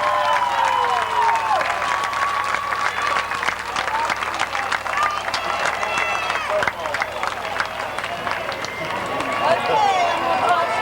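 Crowd at Columbus Motor Speedway applauding the drivers, a sustained wash of clapping and cheering that fills the grandstand while an announcer's voice carries over the top.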